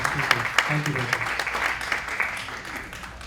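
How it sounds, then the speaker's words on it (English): An audience at a conference keynote session claps for a panel moderator, steady applause throughout while a voice speaks over the first part. "Let's give a round of applause to Venki for moderating the wonderful panel and the speakers."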